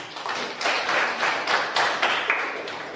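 A classroom audience claps for the first student group after its presentation, a few hands beating in loose bursts at moderate loudness, fairly close, with no speech over it.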